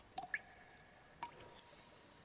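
Water drips from cave stalactites in a dark cave, a few sparse, clear drops landing at irregular intervals against a faint, quiet background.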